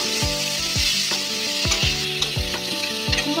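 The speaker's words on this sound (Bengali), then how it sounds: "কাঁচা লঙ্কা আর কালো জিরা ফোড়ন দিয়ে কুমড়োটা ভেজে নিচ্ছি।" Pumpkin frying with green chili and nigella seeds in hot oil, a steady close sizzle broken by repeated rhythmic scrapes of a spatula stirring the pan, no voices.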